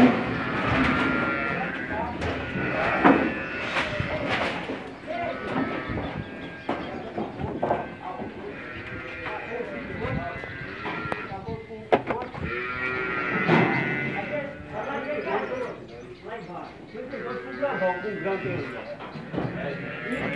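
Cattle low repeatedly amid a busy masonry corral pen with a squeeze chute, mixed with people talking, clanking metal and other animal calls throughout.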